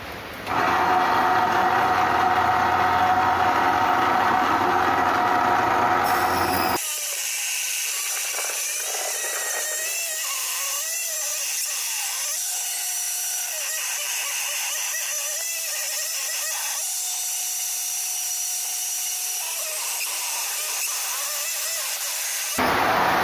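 A saw slowly cuts through a thick sheet with a loud, harsh grinding roar for about seven seconds, then settles into a quieter, steady whine that wavers in pitch until it stops.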